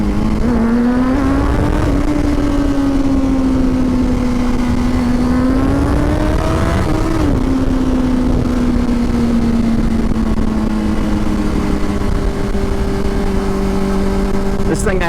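A 2004 Honda CBR 600RR sport motorcycle fitted with a Jardine slip-on exhaust runs continuously nearby, idling with gentle rises and falls in revs, while a person talks over it.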